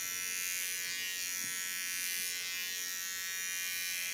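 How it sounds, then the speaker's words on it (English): A small electric hair clipper buzzes steadily and close, tidying a haircut's contour line, with a constant high whine that barely changes. "Get in with my small clipper."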